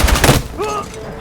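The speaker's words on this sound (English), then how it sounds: "there was somebody sitting in a corner shooting a shotgun at me" Loud, close shotgun blasts and gunfire from the video game Battlefield 6, booming in rapid succession over busy battlefield noise.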